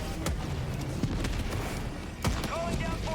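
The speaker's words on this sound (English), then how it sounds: "I can't even hear myself think that there's so many goddamn explosions happening." Explosions go off again and again in the co-op shooter Helldivers 2, a loud, dense barrage of booms and gunfire that fills the whole stretch without a pause.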